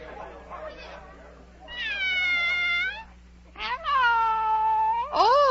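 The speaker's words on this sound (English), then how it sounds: "Oh, it's the Cheshire Cat." Cheshire Cat from a 1948 Alice in Wonderland production meows three times in long, wavering, loud cries, with a low steady hum beneath.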